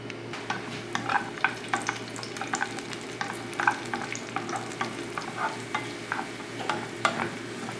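Raisins frying in a pan for Onam ada pradhaman, a close steady sizzle with a busy run of light spoon taps and scrapes repeating every fraction of a second, no voices.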